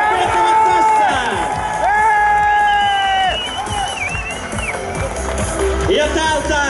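A rally crowd at Neste Rally Finland 2017 cheers and whoops for the winners, a loud, dense roar with shrill, wavering tones drifting through it and a slight dip midway.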